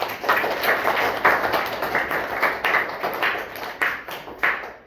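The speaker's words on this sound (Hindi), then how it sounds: "Very good, Tali बजाइए।" A classroom of primary schoolchildren claps together, with repeated bursts of fairly loud, slightly ragged group clapping that rises and dips in waves, with no talk over it.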